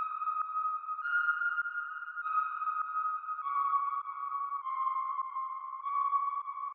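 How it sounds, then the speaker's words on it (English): A bell-like lead synth plays a melodic pattern of sustained tones stepping between pitches, steady and clear with no voices, part of a produced track. "So then I made it its own pattern in sort of like a bell"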